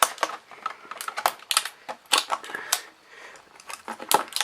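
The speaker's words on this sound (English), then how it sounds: "I'm going to need my knife again for this part, just to cut the part around it" A knife slicing through the plastic packaging of a Logitech MX Performance mouse during unboxing: a run of sharp, close, crackling cuts and plastic snaps in uneven bursts, with no talking.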